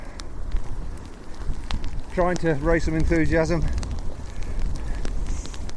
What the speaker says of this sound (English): you can hear the weather is still windy and bursts of rain